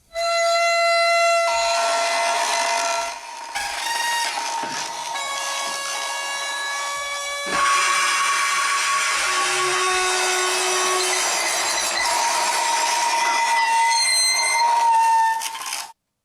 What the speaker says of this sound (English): Then we've got the dry scrapes.